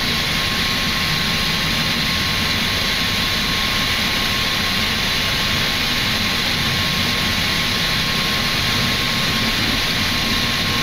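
Boeing 737 MAX jet engines at takeoff thrust on a Flair Airlines departure from Toronto, a loud steady roar heard from inside the aircraft, with a constant hum and broad rumble holding for the whole stretch.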